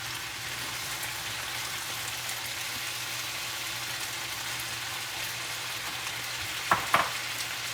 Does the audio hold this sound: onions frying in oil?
yes